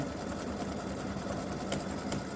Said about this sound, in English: this is just about finished with the outline stitching